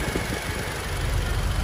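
A 2012 Toyota Innova's 2.0-litre engine idles quietly and evenly, a steady low hum with a faint vibration, heard up close on its own with no talking.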